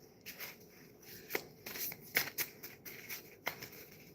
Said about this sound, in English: Trying to give it a little shuffle here.